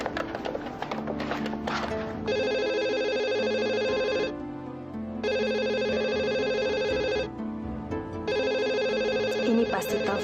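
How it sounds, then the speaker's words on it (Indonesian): A telephone rings in three long electronic trills separated by short pauses, clear and close, with faint background noise between rings. "Ini pasti telepon dari Adrian"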